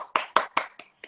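A single person clapping on an Instagram live stream after a song, with about five or six sharp claps that slow and thin out toward the end, close and clear with nothing else around them.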